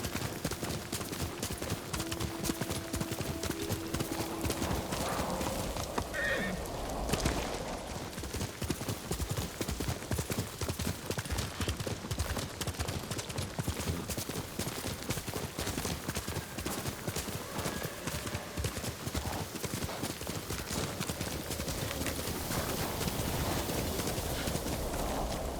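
A horse gallops in the video game Ghost of Tsushima, a steady rapid clip-clop of hooves running throughout with a brief whinny partway in, loud and close over game ambience.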